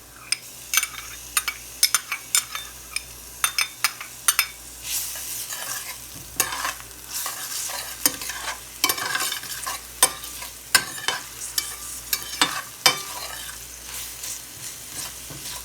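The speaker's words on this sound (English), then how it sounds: "And I'm adding my garlic that I crushed up." Crushed garlic and onions fry in a hot pan, a steady sizzle running under repeated clinks and scrapes of a utensil stirring, close and fairly loud with no talking.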